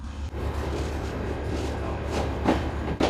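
Steady low rumble of a passenger train rolling along rails in Argentina, heard from inside, with faint rhythmic clacks over the track joints.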